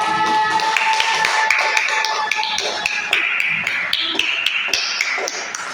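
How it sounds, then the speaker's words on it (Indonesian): Students in a classroom clap for a classmate, producing scattered, uneven hand claps that sound fairly close and moderately loud and continue steadily throughout. "beri tepuk tangan kepada Ero"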